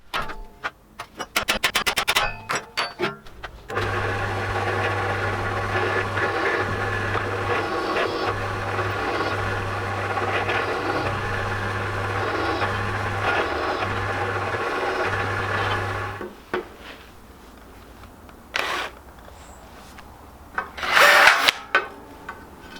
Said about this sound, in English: so I'll drill some holes